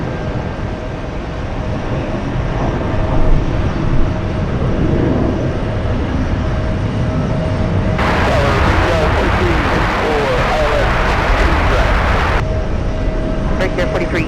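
Jet airliner taking off from runway 22 right at JFK airport in New York, a steady broad engine roar that swells into a louder rushing surge midway before easing slightly, with voices talking faintly beneath it.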